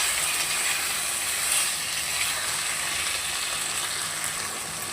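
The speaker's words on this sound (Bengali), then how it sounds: "এবার সব শুদ্ধ মশলা খুব ভালো করে কষিয়ে নেব।" Whole spice masala with green chilli sizzling steadily in a pan for a fish and cauliflower curry, a continuous bright hiss with no talk.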